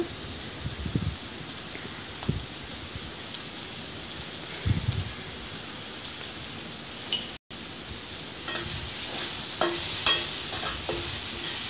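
Mixed vegetable masala sizzles steadily in a pan while a spoon stirs and scrapes it in intermittent bursts, close and moderately loud, with no talking.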